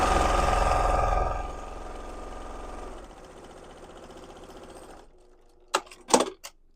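A sewing machine runs steadily while stitching a quilted tote bag with flex foam, its loud continuous whir easing to a lower, quieter hum partway through, then stopping before a few sharp clicks and handling noises.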